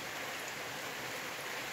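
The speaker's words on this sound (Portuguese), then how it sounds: "E de repente Deus mandou chuva" Steady rain falls on a rural smallholding in the interior of Paraíba, Brazil, a dense even hiss of drops with no voices, holding constant throughout.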